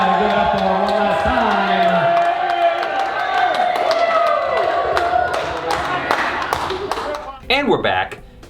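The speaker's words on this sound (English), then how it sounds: "I want to hear one more huge round of applause for your newlyweds, Tom and Hannah" Wedding guests applaud and cheer for newlyweds Tom and Hannah, a loud, dense crowd of clapping and whoops that fills the room, with voices mixed in and a few louder thuds near the end.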